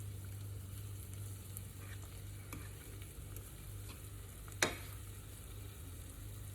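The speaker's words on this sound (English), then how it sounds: "We're just going to cook this until the vegetables are soft." Vegetables and minced garlic sizzle and fry in a pan with a steady close hiss, and a utensil scrapes and stirs now and then, including one sharper clack.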